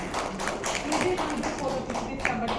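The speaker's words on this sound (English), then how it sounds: "Let's give them both a huge round of applause." Audience applause for two panelists closing a workforce discussion session, steady and fairly close, with chatter and voices mixed in throughout.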